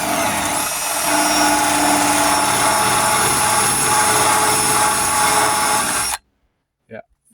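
A power tool spins a paint-stripping wheel against a vehicle panel during sanding work, a loud continuous whirring grind that runs steadily for about six seconds, then stops abruptly.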